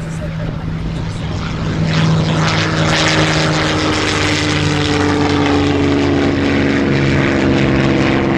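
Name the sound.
aircraft Merlin engine growl as throttles come back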